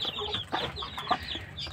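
A mother hen among her chicks gives a quick run of close, throaty clucks in short irregular bursts, with a faint background murmur and no speech.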